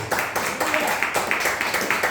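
A church congregation applauds together, rhythmic bursts of clapping repeating steadily over a dense wash of crowd noise and voices.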